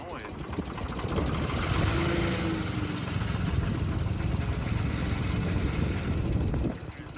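A Ford 2600 tractor runs with a rough, low mechanical rumble and grinding from a failing transmission, steady and close for several seconds, with someone talking over it.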